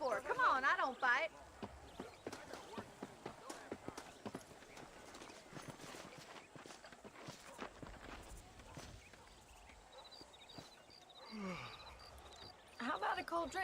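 Horse hooves clip-clop in a quick, even rhythm as a rider travels in Red Dead Redemption, with voices heard at the start and end of the ride.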